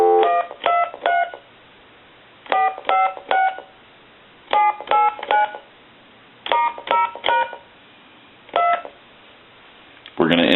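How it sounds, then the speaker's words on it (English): An aviation telephone on speakerphone dials a number, sending clusters of short DTMF tone beeps in quick groups of three or four separated by pauses, clear and close, ending with a brief noise. "Now let's go ahead and try the speakerphone, and we'll dial our numbers."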